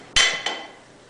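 A screwdriver prying at the bead of a tubeless ATV tire by the valve stem gives two sharp metallic clinks, the first louder, close and alone.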